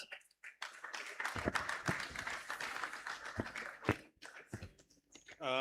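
A crowd at an investment summit applauds, a faint, distant spread of clapping running throughout with a few louder nearby claps standing out.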